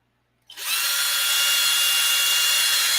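A power drill starts abruptly after a brief silence and runs at a steady, loud, high-pitched whine until the end.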